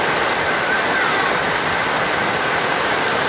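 Heavy rain pours steadily during a violent storm, a loud, unbroken wash of hissing water with no pauses and no voices.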